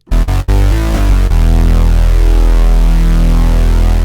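A few short synth bass hits, then one deep, sustained G-funk bass note with a sine-wave sub oscillator giving a smooth sub-heavy low end, droning steadily and loud.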